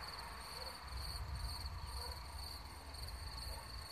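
Steady high-pitched cricket chirping fills the background with a continuous insect drone, over a low rumbling hum, in the countryside of Rhône-Alpes-Auvergne, France.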